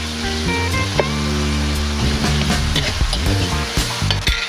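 Crushed tomatoes sauté in a hot pan with a steady, loud sizzle, while a utensil stirs and scrapes against the pan and music plays underneath.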